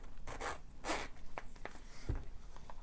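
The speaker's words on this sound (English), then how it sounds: "Let me see the zipper." A zipper on a leather traveler's notebook from Prima Marketing is pulled open in several short, close strokes, the soft rasps separated by brief pauses and small handling rubs, with no talking.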